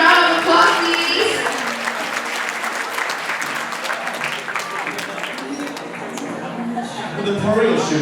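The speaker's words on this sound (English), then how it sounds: "Everybody give him a round of applause" A wedding banquet audience applauds for several seconds, with dense, sustained clapping, some cheering, and voices mixed in throughout.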